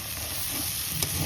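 Oil sizzles steadily as crab and potatoes fry in a pan, a soft continuous hiss of frying with a faint stir near the end.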